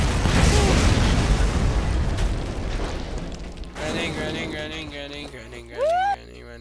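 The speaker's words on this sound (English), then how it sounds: "Explosions!" Explosions in the video game Borderlands go off as a heavy, rumbling boom that fades over a few seconds, followed by quieter game sounds and a short tonal sweep.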